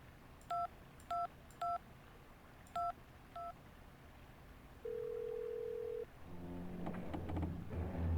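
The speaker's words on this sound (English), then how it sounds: "Can we phone up Oscar?" In the Syberia 2 video game, a telephone is dialed: five crisp DTMF key tones, a steady dial tone lasting about a second, then low rumbling ambience.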